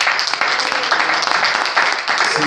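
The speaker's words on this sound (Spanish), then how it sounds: "Un fuerte aplauso al Señor." A church congregation breaks into loud, sustained applause for the Lord during a Spanish-language sermon, dense clapping filling the short stretch with no talk over it.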